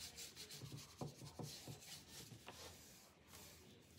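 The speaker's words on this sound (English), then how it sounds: "I'm just gonna rub it with my finger." A finger rubs paint onto a wooden bunny sign. Soft, dry scuffing strokes repeat in a loose rhythm, quiet and close against a faint background hiss.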